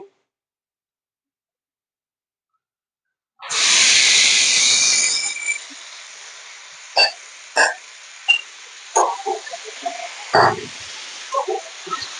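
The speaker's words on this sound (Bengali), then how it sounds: "এই সময় আমি মেরিনেশন করা চিকেনটা দিয়ে দেব এর মধ্যে" Marinated chicken dropped into hot oil with fried onions, a sudden loud hiss that fades into a softer sizzle, broken by several sharp spatula knocks and scrapes against the pan.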